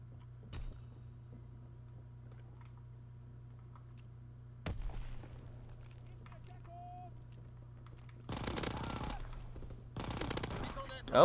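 A Thompson submachine gun fires in a WW2 video game, with a short burst early and then long rapid automatic bursts later, heard close over quiet game ambience.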